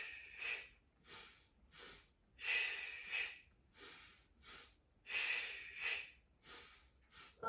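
Rhythmic breathing during a Pilates resistance band workout, with paired breaths in and out repeating in a steady cycle, close and fairly loud, each breath a soft airy rush with brief pauses between them.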